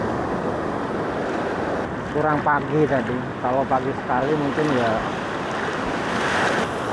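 Ocean surf rolling and breaking on a wild shoreline, a steady loud wash of waves with wind buffeting the microphone throughout, while someone talks over it in the middle.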